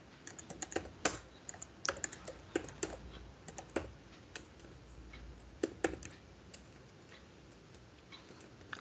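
Computer keyboard typing while entering app development code, a steady run of quiet, close clicks and keystroke bursts with brief pauses between, alone with no speech.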